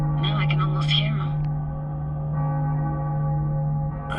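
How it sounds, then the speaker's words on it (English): Cracked bells in the video game Cyberpunk 2077 give off an eerie, atonal clang, heard as sustained, droning metallic tones over a low steady hum throughout. "Bells were cracked too. Gave off this eerie, atonal clang."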